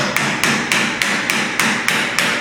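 A hammer taps a stuck blade on an EC17 cutter, eight sharp metallic strikes in an even, steady rhythm, loud and close with no talking.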